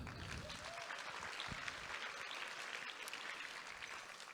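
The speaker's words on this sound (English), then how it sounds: "have a round of applause for them" Audience at a children's network conference applauding the organisers, a steady dense wash of many hands clapping, fairly faint and distant, with no talking over it.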